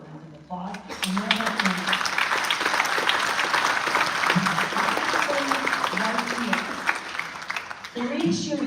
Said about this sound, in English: I absolutely give her a round of applause